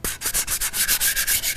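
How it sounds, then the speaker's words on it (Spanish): Sandpaper rubs back and forth over the rounded edges of a wooden cat cutout for a pop art craft, a steady close rasping stroke repeated about ten times in quick rhythm, with no talking. "Aquí sí vamos a tener que lijarlo un poquito, así,"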